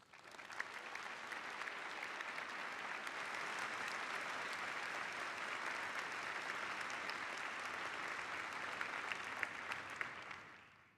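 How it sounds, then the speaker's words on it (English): Audience at an academic convocation applauding steadily for about ten seconds, a dense, even wash of many clapping hands that swells and then fades at the end, with no voices. "join me in a round of applause for those who have supported"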